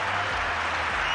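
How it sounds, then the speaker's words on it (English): Donald Trump claps for himself amid a room's broad, steady applause, one short dense burst of hand claps with a low hum beneath. "Look at Donald Trump giving himself a round of applause."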